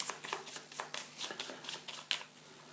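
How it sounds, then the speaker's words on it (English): Playing cards from a Dawn of the Zeds board game riffled and shuffled by hand, a quick series of crisp flutters and soft slaps in close, quiet, rhythmic bursts with no talk. "Take 3, shuffle them together, put them on top of the deck"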